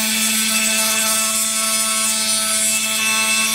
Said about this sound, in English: So what's happening there is that sandpaper is just flapping around